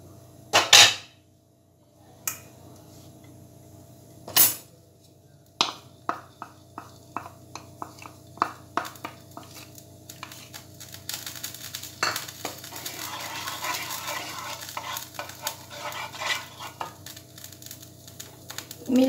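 Half a bowl of ghee is added to a pan for making peda sweets and stirred with a spoon, giving a long run of scattered metal clinks and scrapes over a soft sizzle, with occasional voice in between.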